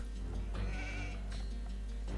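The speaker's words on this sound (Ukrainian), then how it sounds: "Є вівця, є вівця." A sheep in Age of Empires II HD Edition bleats a few times over a constant low in-game hum. The calls are moderately loud and wavering.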